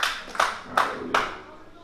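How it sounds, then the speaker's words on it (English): Three sharp, evenly spaced hand claps from a church congregation in praise, fairly quiet and fading, with faint voices in the background. "let's give the Most High another hand clap."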